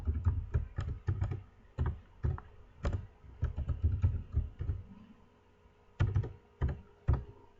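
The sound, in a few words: typing a new password on a computer keyboard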